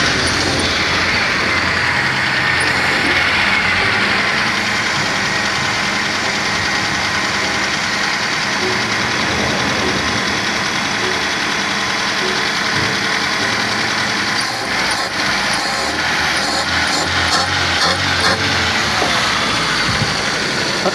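A car engine, fresh from refuelling after it ran out of gasoline, runs at a steady idle, loud and continuous with a mid-range hum and no talk over it.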